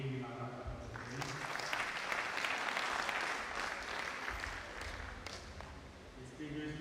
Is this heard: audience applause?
yes